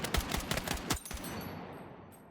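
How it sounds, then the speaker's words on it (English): A quick burst of semi-automatic single-fire gunshots in the video game Battlefield 6, several sharp close reports in the first second, then a fading reverberant tail and quiet. "If I press this, boom, single fire, semi-auto."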